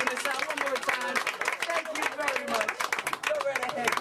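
An audience claps and cheers after a sponge ball magic trick: a dense, steady wash of applause runs for the full four seconds, with crowd voices mixed into the clapping.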